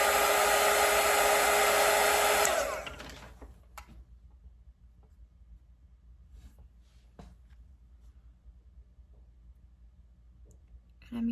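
Hair dryer blowing loudly on watercolour paint for about two and a half seconds, then switched off with a click, leaving faint handling sounds and quiet room tone.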